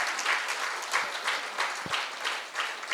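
An audience at the Cosmic Valley celebrations in Khammam applauds steadily, a sustained wash of many hands clapping at moderate distance with no voices over it.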